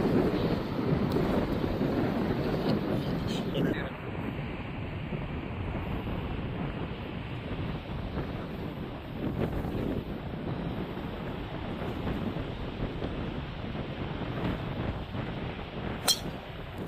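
Steady, roaring wind buffets the microphone on a golf course alongside rushing surf, a constant loud rumble with no voices.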